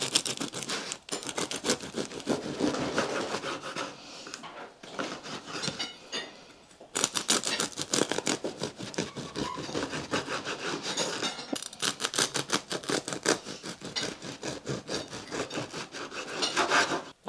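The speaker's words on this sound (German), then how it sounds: "Ich will euch jetzt einmal das Brot trotzdem mal geschnitten zeigen" A knife saws through crusty homemade toast bread with a dense run of rapid rasping strokes, close and steady, broken by two short pauses partway through, with no talking.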